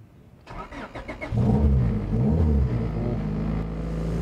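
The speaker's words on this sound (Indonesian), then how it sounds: "Nah sekarang kita dengerin suara mesinnya" A 1990s Honda Civic Estilo engine cranking briefly with rapid starter pulses, then catching and settling into a loud, steady idle close by.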